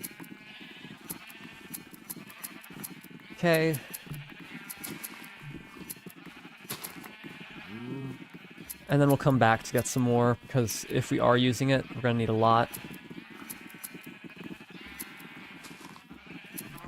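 Minecraft sheep bleat in a cluster of wavering cries during a survival session while wool is sheared, loud and close, mixed with someone talking and background game sounds.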